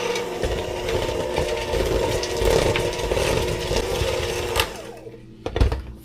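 An electric mixer creams butter for a pound cake, whirring steadily and loud close by for about five seconds before cutting out, followed by a couple of bowl knocks.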